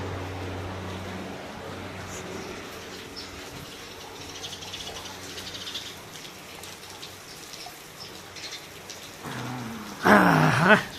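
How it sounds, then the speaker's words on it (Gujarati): Rain falls steadily, a dense wash of drops close by, with a brief louder rumble near the end. "વરસાદ ચાલુ બતાવો"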